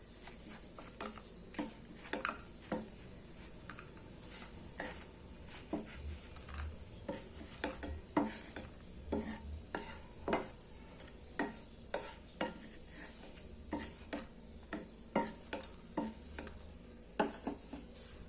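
Dry red chillies roasting in a pan for a spicy garlic chutney, heard as quiet, steady scraping strokes of a spoon stirring against the pan with a faint background sizzle and no talking.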